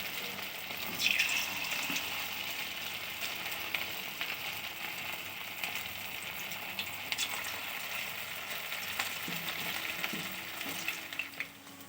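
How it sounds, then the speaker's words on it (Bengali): Cauliflower pieces for Gobi 65 fry in hot white vegetable oil, producing a continuous dense bubbling sizzle with occasional stirring, close and fairly even throughout with no talking. "এবার ফ্রাই হবে সাদা তেলেই দিয়ে করছি"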